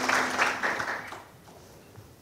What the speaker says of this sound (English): Can we give a round of applause to Violet?